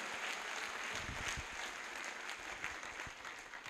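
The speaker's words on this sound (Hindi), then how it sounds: "उनके लिए चाहता हूं जोरदार तालियां हो जाए" An audience gives loud, enthusiastic applause in a hall, a continuous roar of many hands clapping together with scattered sharper claps standing out.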